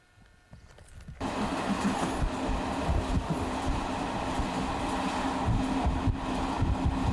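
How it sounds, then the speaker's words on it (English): A 1991 train journey on the Prague line into the High Tatras of Slovakia, with a steady loud rolling rumble and rattling carriage noise that swells up abruptly after a brief quieter moment and then continues evenly. "Taking the Prague train, one stop"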